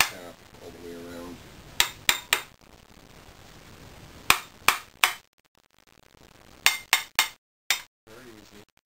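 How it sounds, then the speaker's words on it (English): Sharp metallic taps in quick pairs and triplets, a hammer striking a Norwalk 265 juicer all the way around, with short pauses between bursts and a faint voice early on. "with a hammer give a little tap all the way around"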